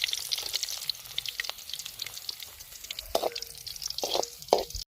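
Crushed garlic fries in oil in a pan while village snails are being prepared, giving a quiet, continuous sizzle with scattered crackles and a few louder pops and clinks toward the end.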